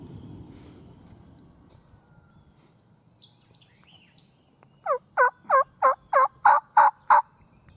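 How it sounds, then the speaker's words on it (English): A wild turkey gobbles in a quick burst of loud, rhythmic, rattling calls after a quiet stretch of faint outdoor background. "He just gobbled at me twice."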